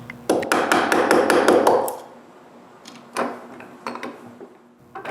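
Wood is removed by hand for bolt heads with a burst of rapid, close chopping or rasping strokes, then a pause and a few separate knocks and scrapes.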